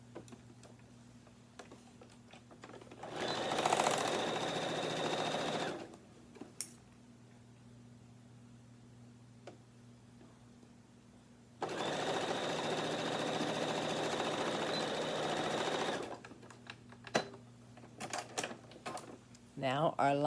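A sewing machine stitches a tote bag lining seam, backstitching at the start and end, in two sustained bursts of steady mechanical whirring separated by quiet pauses, with light handling clicks between.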